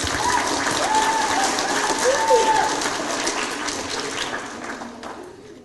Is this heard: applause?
yes